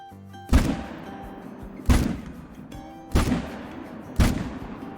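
Four loud, booming rifle shots at whitetail deer in a hunting video game, spaced about a second apart, each with a short rumbling tail.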